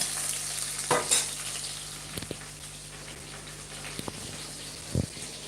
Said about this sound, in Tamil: நல்லா இது ஃப்ரை ஆகட்டும் கருகாப்பில் இப்போ தான் போடுறேன்